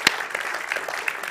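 Brief audience applause in a hall after a presentation on access to culture, a short burst of scattered claps with a few sharper hand strikes standing out.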